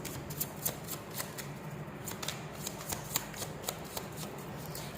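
Tarot cards are shuffled close up in a continuous papery riffle, with regular crisp flicks and slaps repeating for about five seconds and no talking.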